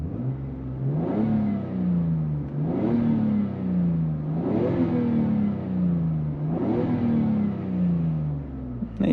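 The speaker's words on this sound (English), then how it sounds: "Now you can hear the 2JZ," A Lexus IS300 with a 2JZ engine and manual gearbox revs in four repeated rising pulls, each climbing then falling back, fairly close and steady, with no voices.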